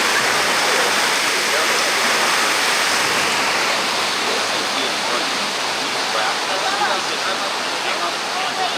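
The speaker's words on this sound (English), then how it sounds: "There's a little rapid here." Water rushes through a small rapid on a water park ride at Typhoon Lagoon, a dense, continuous roar of churning spray that is loud and close throughout.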